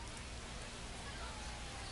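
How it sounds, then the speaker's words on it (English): Steady rain hisses in a baseball video game, a constant broadband wash of falling drops with a heavy low rumble underneath and no distinct events. "Well, the rain's still a factor here"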